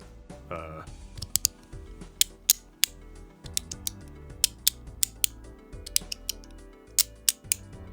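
Sharp, bright clicks from a clicky fidget toy, a dozen or so crisp snaps in an irregular rhythm, close to the microphone, over a soft background tone.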